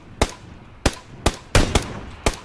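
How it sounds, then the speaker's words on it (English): Gunfire in the first-person shooter Ironsight, six sharp, loud shots spaced irregularly over a couple of seconds, two of them fired in quick succession, with no talking. "The other dude's firing at him."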